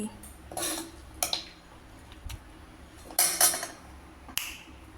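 Lemon rice pulihora, a temple-style offering, is stirred by hand in a vessel: a few close, sharp clinks and brief scraping bursts at irregular intervals, separated by quiet stretches and no talking.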